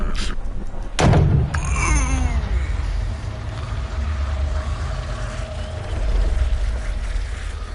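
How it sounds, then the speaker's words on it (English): A sharp, powerful crack of a golf club striking the ball, booming once and then fading, with outdoor wind and murmur lingering afterward. "did you hear the sound of that coming off the club face?"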